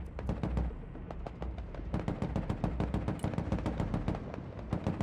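Dense gunfire in the military strategy game Broken Arrow, rapid overlapping automatic bursts and sharp shots cracking continuously at close range, with no speech over them.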